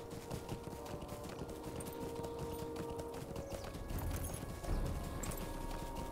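Horse hooves clip-clop steadily at moderate distance in Lord of the Rings Online, a continuous rhythmic patter over a busy game ambience with no talking.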